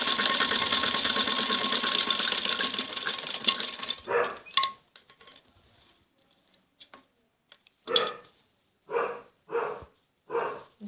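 A sewing machine stitches a folded neck strip onto a kameez jacket: a steady whirring run for about four seconds, then several short separate bursts of stitching with quiet gaps between.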